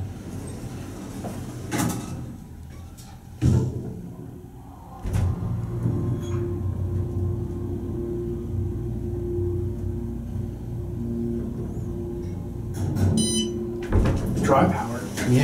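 Otis hydraulic elevator motor in a Marriott parking garage in Newport News, Virginia: a steady low hum runs from about five seconds on, with thumps and clunks near the start and end and voices talking over it.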